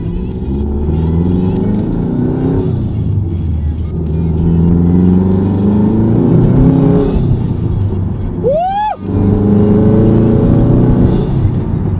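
A Subaru Legacy GT's turbocharged engine drones and builds under boost from inside the cabin, a loud sustained rumble with a brief rising whistle-like chirp near the end.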